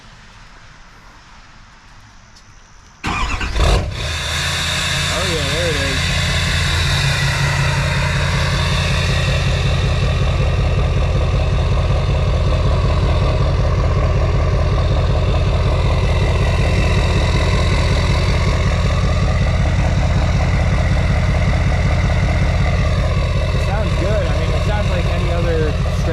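An emissions-deleted LML Duramax diesel truck engine cranks and fires up after a short quiet stretch, then settles into a steady, loud, low rumbling idle while someone speaks briefly over it.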